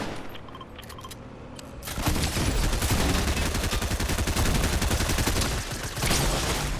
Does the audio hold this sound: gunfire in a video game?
yes